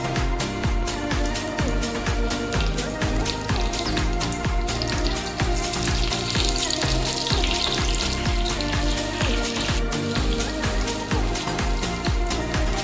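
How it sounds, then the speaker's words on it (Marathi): Butter sizzling loudly in hot oil that was used to fry cashews and paneer, a dense continuous crackle and spatter with occasional sharp pops, close up and with no talking. "हे काजू आणि पनीर तळलेलं तेल आहे, त्याच्यामध्येच आपण बटर टाकून घेऊया।"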